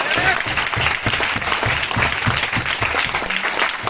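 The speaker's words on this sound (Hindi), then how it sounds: "तो एक बार अपने लिए जोरदार ताली बजाएं।" Loud, close applause from an audience at a business marketing seminar, with dense rhythmic clapping and some crowd voices mixed in, sustained for the whole stretch.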